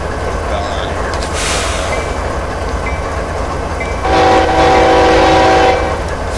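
A steady train horn blares for a couple of seconds over continuous engine rumble on a mixed freight train in the RailWorks TS2014 train simulator game, after an earlier softer burst of noise.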